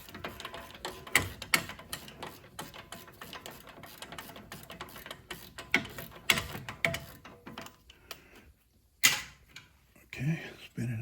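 A wrench ratchets as it spins a bolt out of a Subaru Outback's front wheel assembly, a series of close, irregular clicking bursts with brief pauses, mixed with some handling noise.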